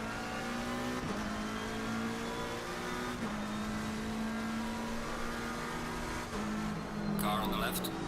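Race cars accelerate together at the green flag at Imola in Assetto Corsa Competizione, engines rising in pitch through repeated upshifts, loud and sustained, with a burst of noise near the end and a voice talking over it.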